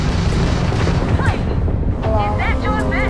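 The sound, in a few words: gunfire in Starfield space combat, video game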